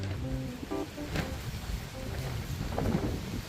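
Wind blows outdoors in low, rumbling gusts against the microphone, steady and fairly loud, with faint tonal sounds and scattered noises mixed in.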